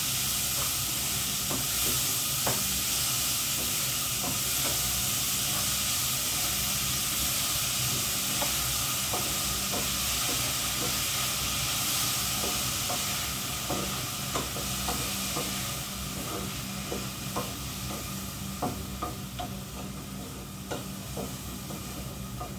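Onions with salt sauté in a pan for a prawn theeyal, sizzling and hissing steadily with occasional stirring scrapes and clicks, fairly close and continuous with no talk.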